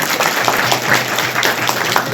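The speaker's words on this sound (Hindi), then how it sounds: "जोरदार तालियां" An audience applauds at an award ceremony honouring students in Lohara, a dense, even wash of many hands clapping throughout, heard up close.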